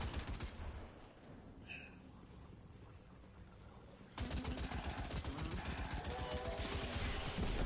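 Video game gunfire rattles in dense bursts, quieter and sparser at first, then a heavy continuous volley of rapid shots takes over for the second half, loud and sustained.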